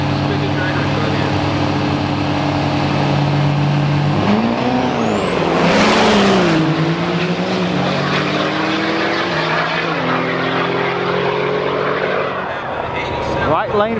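Diesel trucks drag racing at a truck jam, heavy engines roaring loud and continuous with rising and falling revs as they pass, an announcer talking over the noise.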